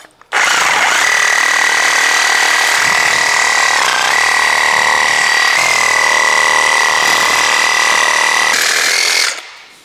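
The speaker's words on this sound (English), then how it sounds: "I'm going to actually have to use a saw to cut that. I have a metal blade in here" A saw fitted with a fine metal-cutting blade bites into an old hammer, a loud continuous high grinding whine held for nearly ten seconds with slight pitch shifts, then stopping abruptly.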